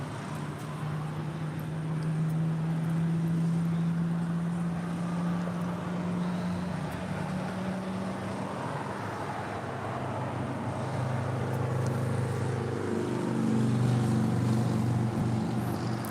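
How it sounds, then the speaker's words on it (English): An Asiana Airlines A350 arriving from Seoul touches down on runway 24 left on the north side of LAX, a steady broad jet roar with a low engine drone that shifts in pitch and swells louder toward the end. "Asiana A350 about to touch down on 24 left there on the north side, coming in from Seoul"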